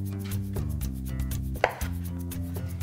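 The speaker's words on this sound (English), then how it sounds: "I just want to cut a lime" A knife slicing through a lime on a cutting board, a few soft cuts and one sharper knock against the board, all sitting under a steady bed of background music with no talking.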